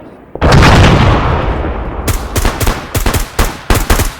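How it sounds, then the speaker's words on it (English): Military platoon training with grenade launchers firing at a PKM machine gunner: a loud, sustained roar of gunfire and blasts, then a burst of sharp, rapid, closely spaced shots. "We're utilizing GLs against that PKM gunner to the west."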